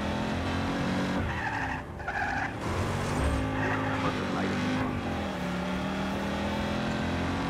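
A car drifts and skids in the video game Just Cause, with sustained tire squeal and screeching over a constant engine roar, rising and falling through the turns and loud and close the whole way.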